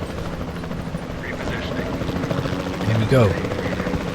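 A helicopter flies in the video game Jurassic World Evolution 2 during a dinosaur tranquilizing mission, a steady rotor drone under a man's brief speech, with a short sharp game effect near the end.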